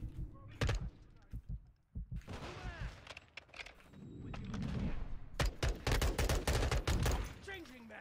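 Gunfire in the video game Modern Warfare 2: scattered single shots, then sustained bursts of rapid automatic fire mixed with impacts, with a voice talking in between.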